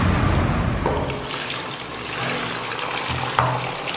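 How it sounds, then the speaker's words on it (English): Water runs steadily from a tap during clothes washing at a traditional Cambodian cooking class, a continuous splashing flow with a faint low hum beneath and one brief knock near the end. "I'm gonna wash my clothes."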